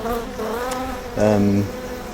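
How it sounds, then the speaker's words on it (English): A steady, close buzzing hum of many bees, swelling briefly louder partway through, with no voices. "the humming of the bees"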